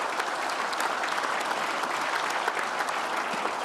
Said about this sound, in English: Clapping a lot.